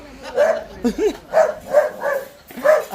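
A dog barks close by in a rapid series of about six sharp, yelping barks, with no one talking.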